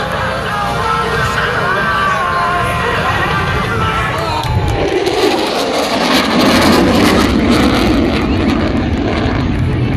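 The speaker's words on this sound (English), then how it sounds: "Ladies and gentlemen, from the right, the Super Hornet high-speed pass." An F-18 Super Hornet makes a high-speed pass at the Millville airshow, its loud jet roar swelling and tearing overhead above a murmuring crowd.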